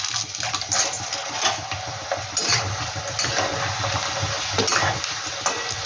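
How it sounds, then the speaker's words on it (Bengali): Pasta frying in hot oil in a pan, a steady crackling sizzle with occasional clinks and scrapes of stirring, close and continuous without talk. "দেখো, এখানে কিন্তু তেলটা আমার গরম হয়ে গেছে। আমি পাস্তাগুলো আমি একটু ভেজে নিচ্ছি।"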